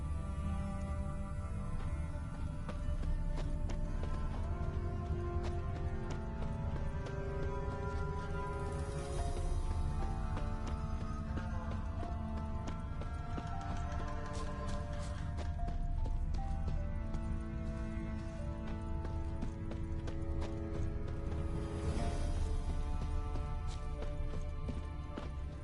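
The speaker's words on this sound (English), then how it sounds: "A merchant's wagon." Horse-drawn merchant's wagon with wide, heavy wheels in The Witcher 3: steady clip-clop of hooves and rolling rumble running continuously at even loudness, with game music underneath.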